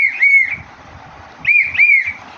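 Someone whistling indoors at home, two separate bright, high whistled phrases, the second pair of notes a little longer, with quiet room sound in between.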